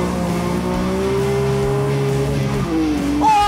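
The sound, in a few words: BMW M3 engine revving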